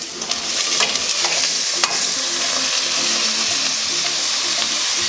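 Vegetable fried rice sizzles loudly in a hot pan while it is stirred, with a constant bright hiss and the occasional scrape or clack of the utensil, and no talking.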